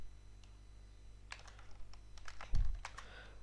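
Fingers type on a computer keyboard while entering code, with scattered key clicks building into a quick burst of keystrokes, close and fairly loud, with no talk over them.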